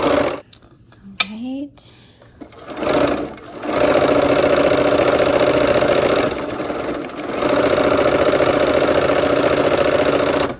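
Someone speaks briefly, then a sewing machine stitches quilt seams in a steady, close motor whir that dips briefly midway before running on.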